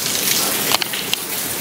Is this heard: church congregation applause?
no